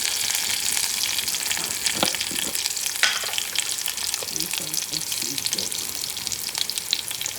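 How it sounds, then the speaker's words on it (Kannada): Cumin seeds and chilli frying in hot oil in a home kitchen pan, a steady bright sizzle with occasional stirring scrapes and pops, close and continuous with no talking. "ಇದಕ್ಕೆ ಸ್ವಲ್ಪ ಜೀರಿಗೆನೂ ಹಾಕ್ಕೊಳ್ಳೋಣ, ಚೆನ್ನಾಗಿರುತ್ತೆ ಟೇಸ್ಟ್."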